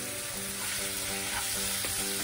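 Minced meat frying in a pan, a steady close sizzle with faint crackle that runs unbroken throughout, with no voices.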